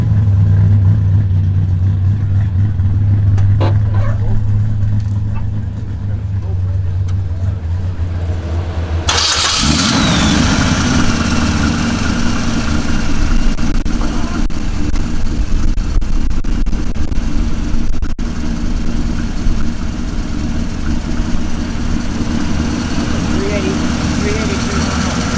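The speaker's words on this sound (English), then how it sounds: "Okay, this 73 Nova, 383 under the hood." A custom 1973 Chevy Nova with a 383 V8 cranks and fires up loudly partway through, then settles into a steady, rumbling idle close by, with no voices over it.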